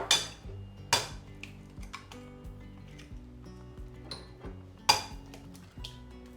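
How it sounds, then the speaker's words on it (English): A utensil clinks and taps against a bowl while a banana is mashed and eggs are mixed in, with a few sharp knocks and lighter scrapes over quiet background music. "And you mash it up. Then you add your eggs."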